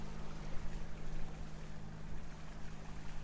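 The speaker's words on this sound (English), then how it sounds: "We're just running one engine at a time right now." Yacht cruising at 4 to 5 knots on one engine, a steady low engine drone beneath a constant wash of water and hull noise, with no voices.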